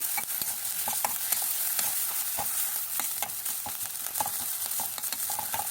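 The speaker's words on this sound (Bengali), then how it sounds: "এই যে আদা বাটা দিয়ে দিলাম, রসুন বাটা, কাঁচামরিচ বাটা, এগুলোকে ভালো করে কষিয়ে নেব।" Ginger, garlic and green chilli paste fry in a pan, a quiet continuous sizzle broken by frequent scraping stirs of a spatula in uneven rhythm, with no one talking.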